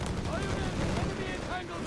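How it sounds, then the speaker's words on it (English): Mortar fire explosions in the Company of Heroes 3 video game, a dense, sustained roar of blasts and gunfire with a voice talking over the battle. "Massive serious explosion, the Grenadiers are pushed back."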